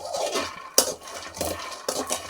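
Peanuts roast in a pan while being stirred, giving repeated rattling, clinking scrapes of the nuts and a utensil against the metal, arriving in several bursts with short pauses between them.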